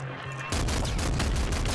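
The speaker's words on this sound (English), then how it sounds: "Those cursed ammos have bigger explosions now" Sudden burst of rapid explosions from cursed ammo in the Nuclear Throne video game, loud and close, erupting after a brief quiet moment and continuing as a dense volley of repeated blasts.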